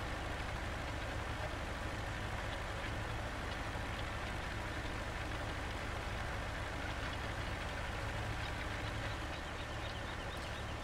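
A tractor pulling a cultivator in a farming video game drones on with a low, steady engine rumble that holds constant and unbroken throughout, with no one speaking.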